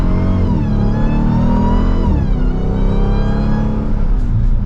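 A Dodge Durango SRT Hellcat SUV engine accelerates hard with a loud, rising roar that climbs through a gear change and keeps building, heard from inside the vehicle with no talking.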